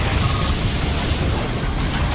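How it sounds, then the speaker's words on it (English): The Explosion move detonates in the Pokémon Battle Revolution video game, a loud, dense, sustained burst of booming crash noise that fills the whole moment without talk. "Annihilated by explosion!"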